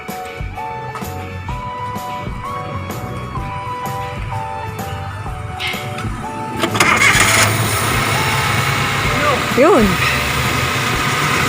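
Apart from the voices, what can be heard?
car engine starting and idling during home repair service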